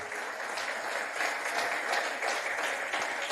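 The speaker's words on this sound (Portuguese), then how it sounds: "pode aplaudir ao Senhor" A church congregation claps in praise to the Lord, a soft, steady spread of applause with slight swells, heard somewhat distant and without voices.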